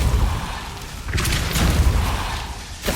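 A Depulso spell cast in Hogwarts Legacy lands as a heavy, booming thump, and a second burst of rumbling impact follows over a dense, noisy game soundscape.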